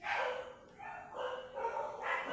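Household dog barking and yipping in a few short, close bursts, fairly loud with brief gaps and no talking.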